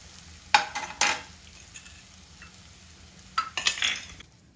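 A raw turmeric pickle mixture is stirred in a pan just taken off the heat. Two clusters of sharp scraping strokes stand out over a faint background, with no talking.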